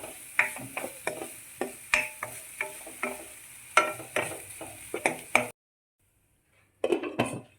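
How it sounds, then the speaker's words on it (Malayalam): Crushed garlic mix sautéed in a pan for a spinach thoran, with a quiet sizzle under regular scraping and tapping of a spoon, then a brief silence before a final burst of stirring. "ആ ചതച്ച് വെച്ച മിക്സ് അതൊന്ന് ചെറുതായിട്ട് വഴറ്റി കൊടുക്കണം"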